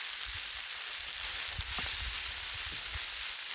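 Chili mac and cheese sizzles on a hot griddle with a steady, close, broadband hiss, and a few soft low bumps from the food and utensils sit beneath it.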